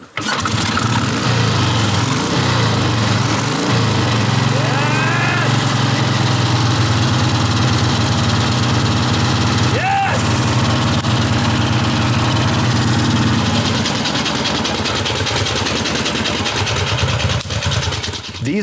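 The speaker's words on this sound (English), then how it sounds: "This one hasn't run in over 50 years, and in less than an afternoon's work, it is up and running." An old barn-find Harley-Davidson motorcycle, idle for over 50 years, runs with a loud, steady rumbling idle throughout, the engine note shifting slightly midway, with voices faintly underneath.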